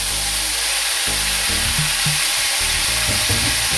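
Canned ackee and saltfish sizzle and fry in hot oil in a pan, a steady dense crackle with occasional stirring scrapes and bumps, close and fairly loud, no talking.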